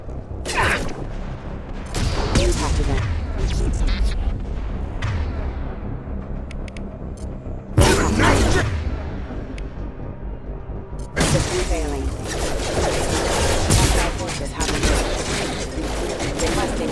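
Gunfire in the Mass Effect 2 PC prologue, with bursts of rapid shots and loud cracking impacts coming in waves, some heavy booms, mixed with game effects and voices.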